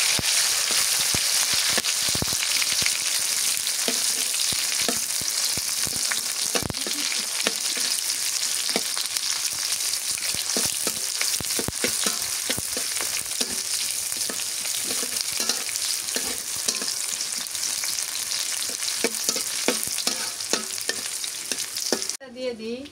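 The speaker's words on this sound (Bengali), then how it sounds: "পেঁয়াজ কুচি দিয়ে দিই।" Chopped onion fries loudly in hot oil with cinnamon and green cardamom for khichuri, a dense, continuous crackling sizzle that runs throughout, close and unbroken.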